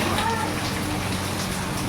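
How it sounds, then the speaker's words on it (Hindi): Heavy monsoon-season rain pours down as a dense, unbroken hiss of drops striking surfaces, loud and near throughout. "बहुत ज़ोर की बारिश है।"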